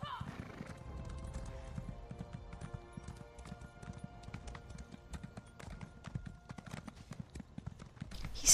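Horse hooves clip-clop at a steady walking rhythm in The Elder Scrolls Online, fairly close and moderately loud, with a neigh near the end.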